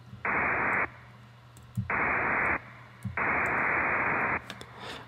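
Three long blocks of loud, low, rumbling noise from the Serum synthesizer, pitched down, each starting and stopping abruptly with short quiet gaps between, carrying a slight reverberant tail.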